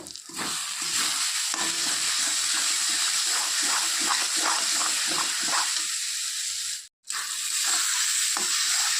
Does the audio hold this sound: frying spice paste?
yes